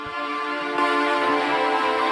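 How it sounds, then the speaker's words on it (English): A sustained, warm string pad swells softly, holding steady chords with a slight lift in brightness partway through, no voices present. "Get some like strings in there."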